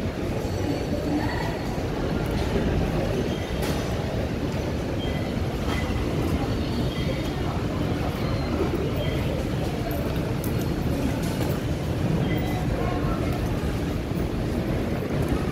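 A train rumbles at a station in Manila with a loud, continuous rolling clatter and scattered metallic squeaks and clicks, while voices murmur faintly in the background.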